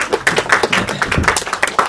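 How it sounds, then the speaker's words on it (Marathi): Audience applause at a Marathi film trailer launch, a dense patter of many hands clapping, steady and fairly loud, with a few voices mixed in. "एकदा जोरदार टाळ्या झाल्या पाहिजेत त्या दोघांसाठी"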